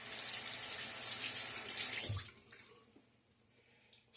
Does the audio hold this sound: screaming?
no